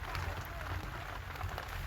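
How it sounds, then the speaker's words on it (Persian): Spring rain falls steadily in a dense, even patter of drops, moderately quiet and continuous with no voices over it. "اینجا بارون بهاره."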